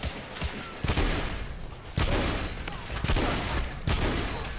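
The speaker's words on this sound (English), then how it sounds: "Alright, time for the shotgun to shine." Heavy shotgun blasts in the Victorian-era shooter The Order: 1886, a few loud booming shots spaced about a second apart amid dense, noisy battle ambience.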